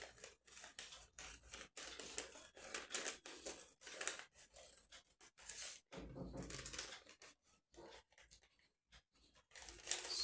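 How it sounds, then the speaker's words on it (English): Scissors snip through folded tracing paper in a quiet room, a run of crisp, close cuts with short pauses between them and faint crinkling. "this is the tracing paper I have taken. So first let us cut the paper along the fold side"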